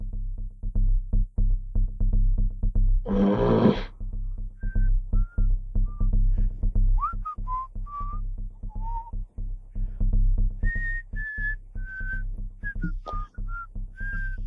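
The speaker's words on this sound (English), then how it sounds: "Just sitting there, smiling. And whistling." A person whistles a slow, meandering tune of separate short notes, with a brief rushing noise early on and a steady low hum behind.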